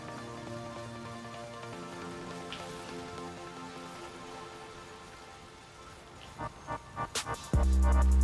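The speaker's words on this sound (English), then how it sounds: "It is actually quite hard to see in this much terrible rain." Heavy rain in the video game Death Stranding pours in a dense, steady hiss, followed near the end by a few sharp knocks and a loud abrupt burst.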